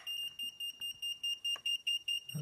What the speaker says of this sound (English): And that's the beeper.